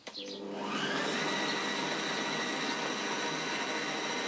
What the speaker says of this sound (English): So I'm going to set the blender going.